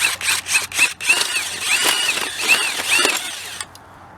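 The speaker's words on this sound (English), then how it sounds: "But come back in here with my drill." A power drill whirs in several bursts, its motor rising and falling as it bores a dirt hole for a fox trap, gritty and close, then stops abruptly.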